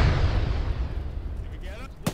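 A rocket launcher blast in the video game Arma fades away as a heavy, rumbling roar, ending with a brief sharp pop.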